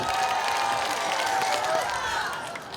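A festival crowd of townspeople claps in a short run, the claps mixed with cheering and chatter at moderate distance, tapering off near the end.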